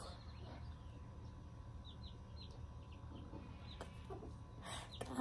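Silkie chickens cluck softly with a few short, high peeps and calls scattered over a steady low background hum; the birds sound fairly faint and close, with no talking.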